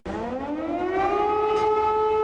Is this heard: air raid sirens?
yes